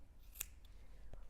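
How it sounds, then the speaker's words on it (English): Scissors snip through a yarn strand at the end of a crocheted scarf with fringe, one quiet, crisp cut, then a fainter second sound. "you're going to cut the strand"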